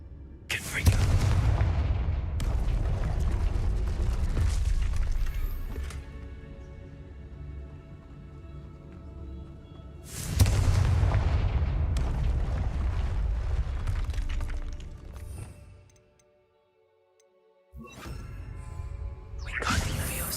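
Booming blasting-spell explosions in Hogwarts Legacy: two big roaring blasts with long rumbling, ringing tails, a short silence, then another burst starting near the end.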